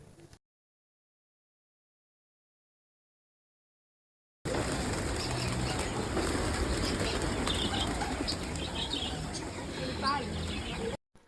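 Pigeons and other birds at a resort farm coo and chirp with occasional wing flaps, set against a busy background of ambient noise after a short stretch of silence at the start.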